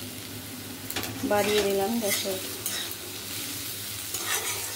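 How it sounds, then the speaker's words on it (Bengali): Garlic fries lightly in oil for an okra dish, producing a constant close sizzle and crackle. A brief voice speaks and a short tonal squeal rises partway through. "রসুনটাকে একটু হালকা একটু ভেজে নেব।"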